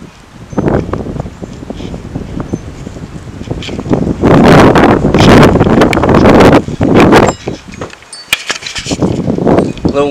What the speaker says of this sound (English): A little windy outside and a little cold.